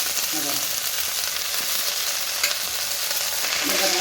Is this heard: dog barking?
no